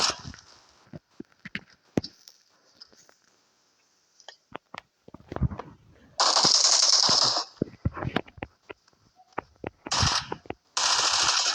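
Gunfire in PUBG Mobile: sharp single shots and short bursts crack out irregularly, with several long, loud sustained bursts of rapid automatic fire near the end.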